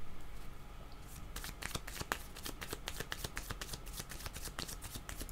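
A deck of tarot cards is shuffled close by, with quiet riffling at first and then a quick run of crisp flicks and snaps as the cards are shuffled repeatedly.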